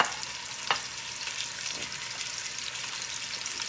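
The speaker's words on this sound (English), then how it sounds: "you want to get this pan pretty hot because you want a good sear" Chicken sears in hot canola oil in a pan, giving a steady, moderate sizzle up close, with one sharp clack and a softer scrape as pieces are moved.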